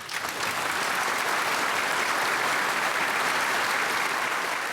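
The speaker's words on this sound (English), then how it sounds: "Everybody was applauding," A crowd applauds a speech praising Canada in loud, sustained clapping that starts quickly and holds a thick, even roar to the end, with no voices rising above it.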